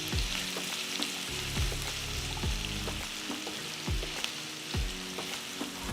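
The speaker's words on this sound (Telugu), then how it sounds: "ఇందులో పొడవగా తరిగిన మూడు ఉల్లిపాయలు వేసి అవి గోల్డెన్ బ్రౌన్ రంగులోకి మారేంత వరకు వేయించాలి" Three long-sliced onions fry in oil in a pan for a Telugu chicken biryani, a steady close crackling sizzle broken by repeated scraping stirs about once a second, with no voices.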